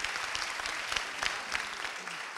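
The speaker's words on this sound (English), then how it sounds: "everyone give a round of applause to both lines people" Applause from an audience at a national programme session, thanking two line speakers: dense, steady clapping that stays at an even level throughout.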